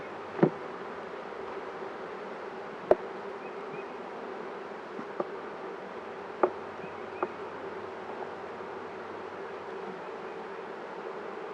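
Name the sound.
honeybees buzzing during a beehive inspection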